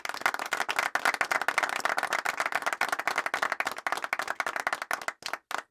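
Applause from a commencement audience for the class of 2023, dense steady clapping that thins toward the end into a few scattered claps, no voices.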